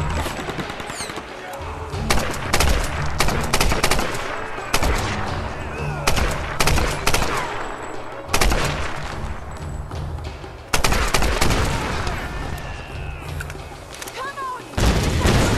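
Rapid AK rifle gunfire in the Tomb Raider video game, repeated loud bursts and booms throughout, with a player's voice talking over the shooting.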